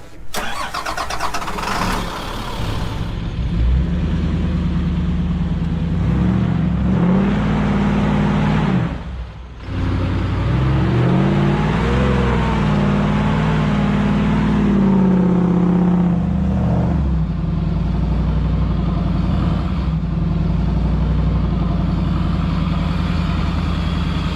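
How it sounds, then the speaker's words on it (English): A bus engine revs hard and steadily while the bus is towed out of deep mud, the loud drone rising and falling in long surges over about twenty seconds with a brief dip midway. "I'm gonna need you to give me enough gas to kind of not spin your tires, but enough to like move the bus"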